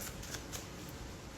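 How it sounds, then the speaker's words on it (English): A short burst of tarot cards being shuffled, a soft riffling flutter with light ticks, fairly close and quiet. "let me shuffle a little bit for this week"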